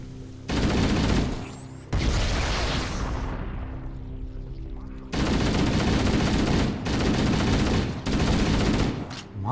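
Sustained bursts of rapid automatic gunfire in the video game Halo, loud and dense, broken by short pauses and resuming several times, with no talking over it.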